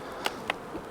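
Honeybees in a Maisemore poly commercial hive, drawing comb in a super: a faint, steady buzzing hum broken by two sharp, brief clicks close to the microphone.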